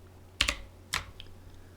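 A few keyboard keys pressed together as a shortcut on a computer, Control and Alt held with another key: two quick close clicks, a pause, then a third click and faint lighter taps, near and alone.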